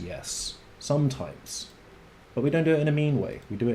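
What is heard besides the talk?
No distinct noise like a dog, phone or traffic.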